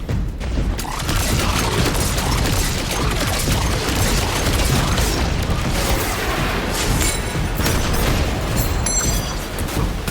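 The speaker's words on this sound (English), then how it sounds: "then we're gonna do the aerial barrage" Aerial barrage explosions in the video game Destiny 2 boom in a dense, continuous stream of blasts and bursts, loud and rumbling with no gaps for the whole stretch.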